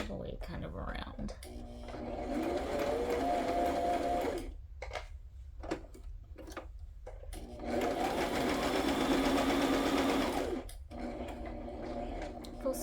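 A sewing machine runs in two long bursts of stitching around the edge of a journal page, its motor whirring loud and steady with brief pauses and clicks between, and a voice talking faintly in the background.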